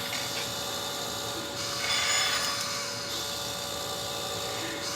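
A Bench Source Vertex brass case annealer runs on a bench with a steady mechanical whir and faint rattling, close and even, swelling slightly near the middle, with no voices.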